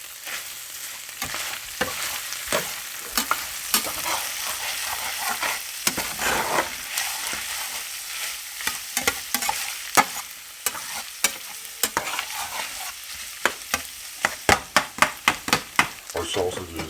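Sweet Italian sausage fries in a pan beneath a continuous close sizzle, punctuated by many sharp taps and scrapes of a utensil that grow quicker and denser toward the end.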